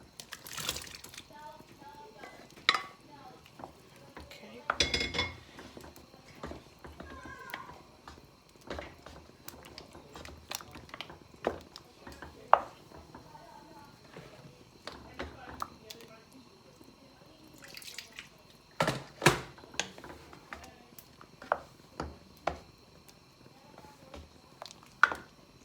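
Meat and its stock poured into a pot of boiling ogbono and okra soup, giving wet splashes, drips and squelchy plops with scattered clinks, fairly quiet and close, under talking.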